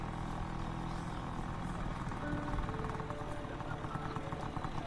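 A booked motorcycle taxi rumbles with a low, continuous engine drone that stays fairly steady and moderately loud throughout.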